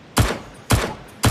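Three sharp, loud gunshots from a Nomad U12 firearm mod in the VR game Blade and Sorcery, evenly spaced about half a second apart, each a hard crack with a brief tail.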